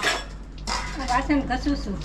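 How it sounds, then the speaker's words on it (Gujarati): Steel dishes, pots and pans clink and clatter during scrubbing at a kitchen sink, with a brief pause before a burst of repeated metallic knocks and scrapes, close and fairly loud. "વાસણ ઘસું છું"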